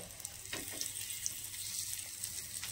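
Soybean chunks frying in hot oil in a home kitchen, a steady bright sizzle with small crackling pops throughout, close and moderately loud, with no talking.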